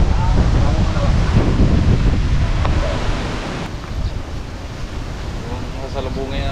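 Strong wind sweeps over a seashore as waves roll in, making a loud, continuous rushing roar that eases slightly partway through.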